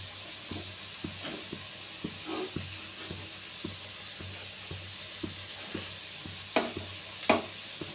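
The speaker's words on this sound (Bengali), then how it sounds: "আমি খুন্তি দিয়ে কাট করছি, তাতেও কিন্তু চাটু সরে বেরিয়ে যাচ্ছে" A metal spatula (khunti) cuts and scrapes food on a hot tawa griddle, giving a steady run of light taps and scrapes over a soft frying sizzle, with a couple of sharper clinks near the end.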